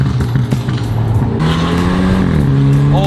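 Tuned BMW F30 320i running a BM3 map, engine revving loudly up close with rising and falling tones, rough exhaust burbles and crackles, a few voices audible underneath.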